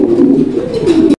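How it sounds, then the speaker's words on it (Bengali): A pair of racer pigeons give a close, loud, continuous low coo that rolls on for about a second before cutting off abruptly. "এইটা রেসার কবুতর একটা জোড়া।"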